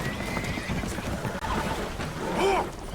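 Spooked horses whinny and neigh aboard a damaged boat taking on water in the video game Red Dead Redemption 2, a clear rising-falling whinny near the end over a busy bed of clatter and murmuring voices.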